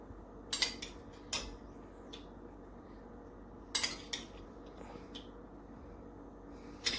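A metal spoon clinks sharply against a metal kadhai in a few scattered taps while desi ghee is added, with quiet gaps between the strikes.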